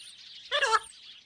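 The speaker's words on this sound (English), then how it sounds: "Yes, it's the African parrot." An African parrot gives one short, bright squawking call about half a second long, near and fairly loud, alone against a faint steady background hiss.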